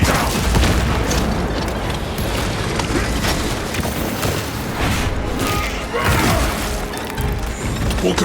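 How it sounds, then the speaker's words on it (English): A shock grenade goes off in the video game Warhammer 40,000 Space Marine 2 amid heavy combat: booming, crashing blasts over a constant roar of battle noise, with some voices underneath. "Shock grenade out!"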